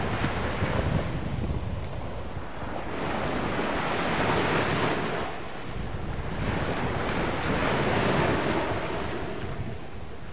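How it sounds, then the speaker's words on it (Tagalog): Ocean waves at Sitio Recudo, San Andres, Quezon, rolling in and washing out in slow, repeated surges, with wind buffeting the microphone and no talking. "Magandang pakmasdan ang alon."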